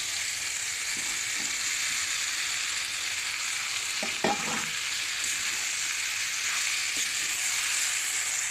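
Fried potatoes and jackfruit tipped into a pan of sizzling desi chicken curry, with a steady frying hiss throughout and a few soft stirring knocks near the middle, no talking.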